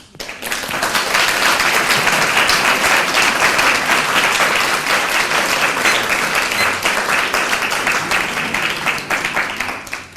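Audience applause at a public debate on Islam and feminism, a dense, steady wash of many hands clapping that holds at full strength for about ten seconds before easing slightly at the end.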